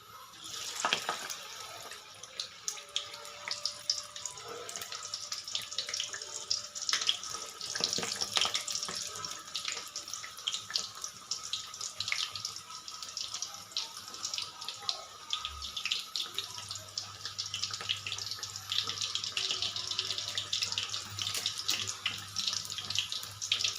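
Whole colocasia (taro) leaves fry in hot oil, producing a steady, close, hissing sizzle that runs unbroken throughout.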